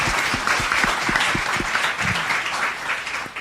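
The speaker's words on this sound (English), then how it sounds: "how about a big round of applause for our panelists tonight?" Live audience applauds panelists at an evening communications careers panel discussion, a dense, steady wash of many hands clapping throughout, with a few sharper claps standing out early on.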